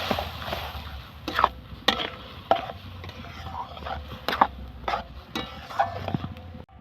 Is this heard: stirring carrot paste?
yes